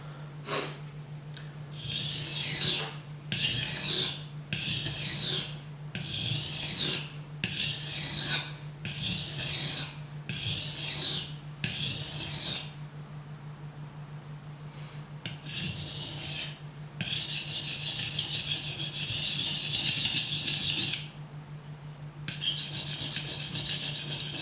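Knife edge stroked across a fine-grit finishing stone of about 4000 to 6000 grit, a close, steady series of raspy scraping passes with short pauses between them and longer continuous stretches toward the end, over a low constant hum.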